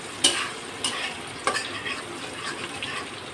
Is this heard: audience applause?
no